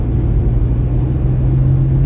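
Road traffic rumbling as cars begin to move after a serious accident involving a lorry, a steady loud low engine drone with no talk.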